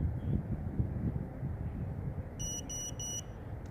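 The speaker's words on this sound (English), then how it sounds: "Okay, so the buzzer's back in place." Three short electronic beeps from the buzzer on a Mantis 85 FPV drone, evenly spaced over about a second, sound over steady outdoor wind noise.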